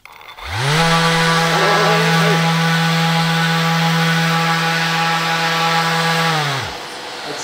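A repaired Festool ETS EC 125 electric random-orbit sander powers up and runs at a steady, loud, even hum with a bright buzzing whine, then spins down near the end.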